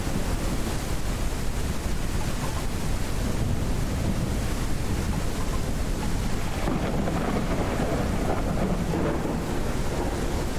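A loud storm in the survival game Mist Survival roars continuously, with dense rushing wind and rain and deep rolling thunder filling every moment, and no voices.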